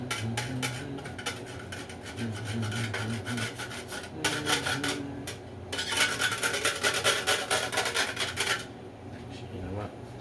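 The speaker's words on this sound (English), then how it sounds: "You rub some of the meat in there." Piece of meat rubbed hard against a metal grater to clear out leftover ginger, giving bursts of rough rasping scrapes in quick strokes, close and fairly quiet, with brief pauses between bursts.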